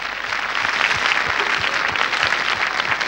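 Steady applause from a 1981 French television studio audience for a young pianist, dense clapping sustained throughout at a fairly loud level with no voices on top.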